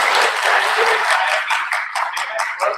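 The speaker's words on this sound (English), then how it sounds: "a big round of applause for our Director Sir" An audience applauds at a university valedictory ceremony closing an IDE boot camp on the Zakura campus: dense, steady clapping close by that thins slightly toward the end.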